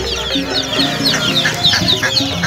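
Poultry at a village livestock market in Sumpiuh, Banyumas, give repeated clucks and squawks, close and busy over a constant crowd murmur.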